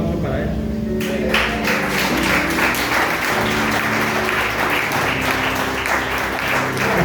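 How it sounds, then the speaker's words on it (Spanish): A church congregation bursts into applause during a sermon, the clapping dense and sustained after a brief quieter lead-in, with a low hum and faint background noise underneath. "Qué bueno, un aplauso para eso."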